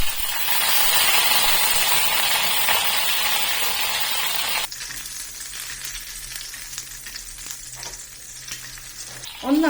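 Green chilies slit down the middle and curry leaves frying in hot oil for a chicken roast: a loud, dense sizzle that drops to a softer, crackling spatter about halfway through.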